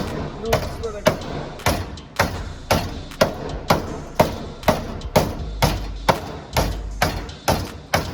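Repeated heavy hammer blows strike a Mazda Miata bumper roughly every half second, each a sharp thud with a ringing tail, steady and close.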